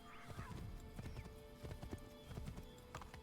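Horse hooves clip-clop steadily at a walking pace in Assassin's Creed III Remastered on PC, the footfalls close and clear against a game soundscape, with a brief whinny-like cry and no talk.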